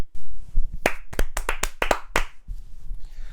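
A short round of clapping by a few people on a football podcast, about eight sharp, uneven claps close to the microphone, with no talking over them.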